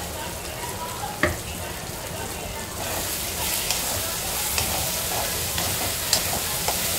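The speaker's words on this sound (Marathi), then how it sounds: "मसाला चांगला परतून घ्यायचा आहे." Steady sizzling of turmeric-spiced masala paste frying in a hot kadhai, with occasional scraping stirs as it sticks to the pan and clinks, continuous and fairly close.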